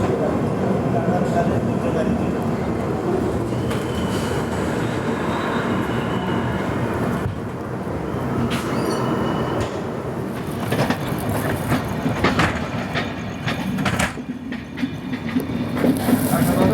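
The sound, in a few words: Gitanjali SF Express train running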